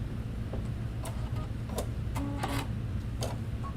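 Embroidery machine stitching out a standard applique tile scene, a steady low mechanical whir with a rapid repetitive ticking rhythm and occasional sharp clicks, close and continuous throughout.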